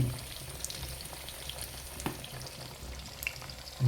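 Kuchi fish frying village style in a pan, a steady soft sizzle with occasional louder pops and crackles, close by and alone without any voices.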